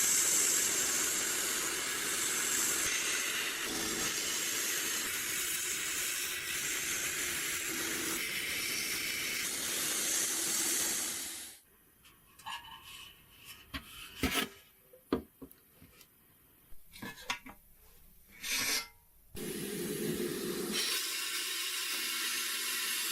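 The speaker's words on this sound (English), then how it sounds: "He uses high-pressure sandblasting to strip away the peeling old paint and heavy rust scales" High-pressure sandblasting strips peeling paint and heavy rust from the metal casing of a 1950s portable gramophone, a loud continuous hiss that cuts out midway into short bursts and clatter, then resumes.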